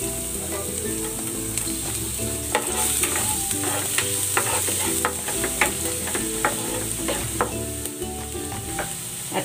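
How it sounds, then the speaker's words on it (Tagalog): Garlic sautés in hot cooking oil with a bright, constant sizzle, punctuated by repeated sharp scraping and stirring clicks of a utensil against the pan. "Igigisa ko na tong bawang."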